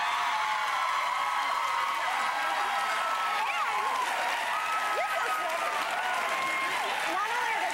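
Studio audience of a daytime television talk show applauding and cheering, a dense continuous wash of clapping with scattered whoops, loud and steady throughout.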